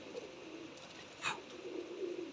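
Red-eyed dab wale and golden teddy pigeons give soft, low coos under a constant background hiss, with a short sharp sound near the middle and no speech.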